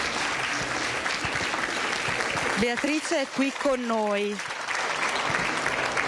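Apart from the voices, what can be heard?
audience applause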